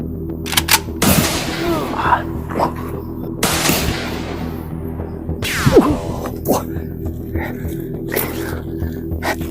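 Several loud, sharp gunshots in an Indonesian war drama crack out a few seconds apart over a steady musical drone, with brief voices between the shots.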